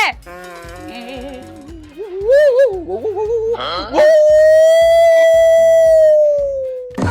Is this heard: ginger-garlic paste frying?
no